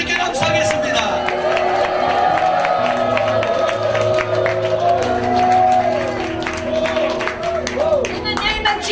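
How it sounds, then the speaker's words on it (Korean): A church congregation cheers and claps in a loud sustained roar of voices after a call to praise, with shouts and whoops over the mass of sound. "let's give the Lord a shout of praise."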